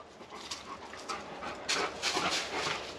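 A dog pants in quick, soft, breathy bursts close by, quiet and continuous with short rhythmic puffs growing slightly louder toward the end.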